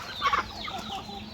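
Chickens cluck and squawk close by in a short burst of overlapping calls, with a quieter murmur of fowl continuing after.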